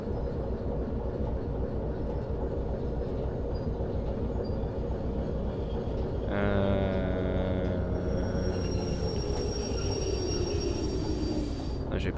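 A train in the video game Derail Valley, steady low rumble that swells into a louder tonal whine and higher squealing partway through, heard close and alone.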